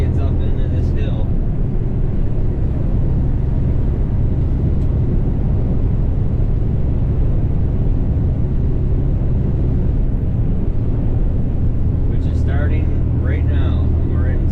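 A Kenworth T880 truck hauling a heavy load, its engine droning loud and steady from inside the cab as it climbs a hill, a low constant rumble with road noise.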